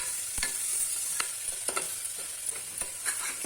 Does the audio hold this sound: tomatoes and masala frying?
yes